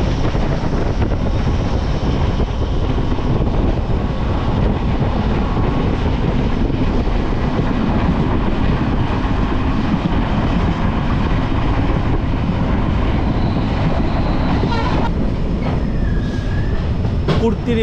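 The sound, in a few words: Dooars Vistadome tourist train running on rails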